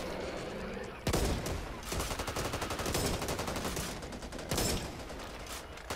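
Gunfire in the zombie shooter Back 4 Blood: rapid automatic bursts and heavy single shots come in loud, dense volleys over game noise, with faint voices under the shooting.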